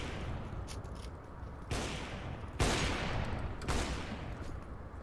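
Gunfire in the video game CS:GO comes as three loud, close bursts of rapid shots, a few seconds apart, over steady background noise.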